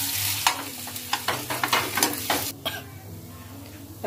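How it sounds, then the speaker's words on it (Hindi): Potatoes and turmeric are stirred in a frying pan: loud, close scraping strokes beat out a steady rhythm over a constant sizzle, then the stirring stops and only a softer hiss remains. "मैं इसमें आलू डाल करके और मिक्स कर दूंगी"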